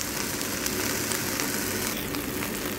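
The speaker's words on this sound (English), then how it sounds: "For your chicken, you can sear, you can grill, you can bake as you like. But for me, I choose to sear." Chicken sears in a hot pan with a steady, close, broadband sizzle and crackle that hardly varies throughout.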